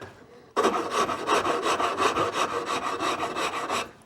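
A wood rasp files across wood in steady back-and-forth strokes, about sixteen even rasping passes in a continuous rhythm, close and fairly loud, with no talking.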